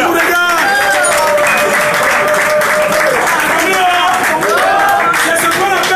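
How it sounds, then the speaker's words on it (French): An audience applauds at an outdoor fundraising gathering in Douala, with sustained loud clapping mixed with crowd noise and a voice speaking over it throughout. "Est-ce qu'on peut applaudir pour les 300 personnes qui nous regardent?"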